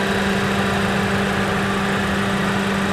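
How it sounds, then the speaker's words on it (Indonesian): The engine of a Suzuki Ertiga GX with a manual gearbox idles under the open hood. A steady, smooth, even hum runs close and unbroken, with no talk over it. "Suara mesinnya halus benar."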